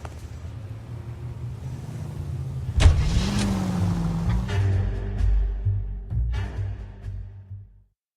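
A car driven in the L.A. Noire video game, a low steady engine rumble that swells briefly as it accelerates, then fades out near the end; no talk over it.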